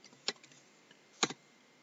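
A computer keyboard being typed on, with a few faint scattered keystrokes and then two louder clicks close together, sparse and quiet with silent gaps between them.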